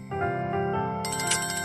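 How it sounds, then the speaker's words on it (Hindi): A phone ringtone for an incoming video call late at night plays as a steady melodic tone, and a brighter, higher layer joins partway through, close and clear with no talking over it. "कॉल आ रहा है, हनुमान अंकल का कॉल।"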